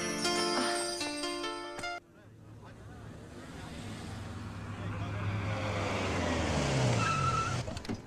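A car drives through a scene in a Hindi comedy film: a musical chord cuts off, then steady road and engine noise swells and rumbles for several seconds, with voices mixed in.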